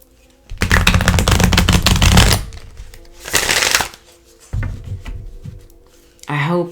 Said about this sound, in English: Let's pull an angel card number.